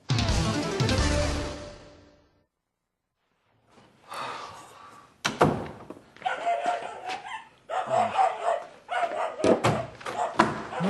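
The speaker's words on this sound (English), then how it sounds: "Stop barking!" A dog barks in a series of short, close bursts and yips after a loud opening sound and a pause, with rapid repeated barks filling the second half.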